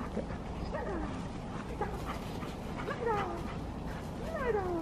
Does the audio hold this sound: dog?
yes